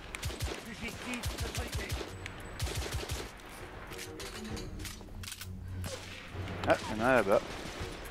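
Gunfire in the Victorian London shooter The Order: 1886, a volley of sharp shots clustered early, then quieter stretches with scattered reports and a whooshing sweep, while someone talks now and then.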